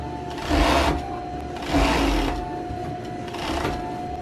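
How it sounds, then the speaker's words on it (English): A sewing machine stitching the pocket and leg seam of pajamas: three bursts of rapid mechanical whirring and needle chatter, each about half a second long, separated by short pauses, close and loud. "Now sew down the outside of the leg."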